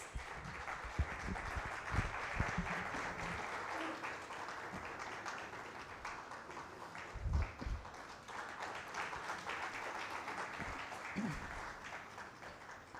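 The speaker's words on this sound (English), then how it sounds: "And maybe give them a good round of applause." Audience applause after a panel discussion at the Chennai literature festival: steady, fairly faint clapping from a crowd in a hall, sustained throughout with a few louder thumps and bits of background noise.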